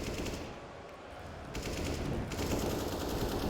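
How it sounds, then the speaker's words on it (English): Sustained, dense rifle fire shot through a wall in Counter-Strike on the Vertigo map during a professional esports match. The loud, rapid bursts fill the whole stretch with barely a break. "still trying to get shots through the wall"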